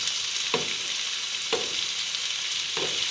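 Bitter gourd (ampalaya) stir-frying in a small pan: a steady loud sizzle with three distinct stirring scrapes spaced about a second apart, no voices.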